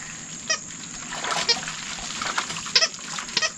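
Hydrogen peroxide and citric acid solution is stirred in a jar, giving soft, intermittent liquid sloshes and light splashy clinks at close range, with no talk.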